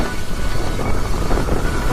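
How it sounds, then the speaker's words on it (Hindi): Light rain falls during a motorcycle ride in Shillong, blended into a dense, steady rush of wind noise buffeting the microphone throughout. "बूंदाबांदी थोड़ी सी तेज़ हो चुकी है"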